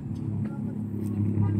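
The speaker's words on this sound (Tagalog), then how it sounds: "Ngayon pa naman kami ng tricycle." A tricycle motor runs steadily nearby, a continuous low rumble that swells slightly toward the end, with faint sounds above it.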